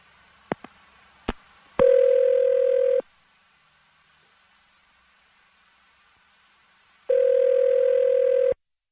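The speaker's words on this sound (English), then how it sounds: "I'm going to dial his phone right now" A steady telephone dial tone plays in two loud bursts, each about a second long, separated by silence, with a few sharp clicks just before the first burst as the call is placed.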